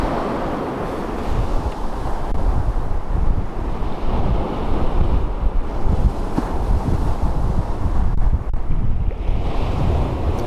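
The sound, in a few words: strong wind on a winter beach at Southsea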